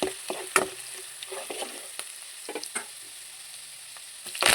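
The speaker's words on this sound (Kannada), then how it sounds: "ಬೆಳ್ಳುಳ್ಳಿ ಕುದ್ದಿನ ಬೆಳ್ಳುಳ್ಳಿ ಪಾಡ್ನು ಐನ ಎಡ್ಡೆ ಫ್ರೈ ಮಲ್ಪುಗ" Garlic frying in hot oil for a tender jackfruit sukka, a steady soft sizzle broken by clattering spoon stirs and scrapes against the pan, fairly close, with a louder burst of sizzling near the end and no talking.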